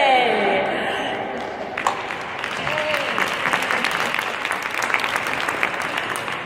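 A crowd applauds and cheers after a call for a big cheer over women winning the vote, a dense sustained wash of clapping that swells after a brief lull, moderately loud.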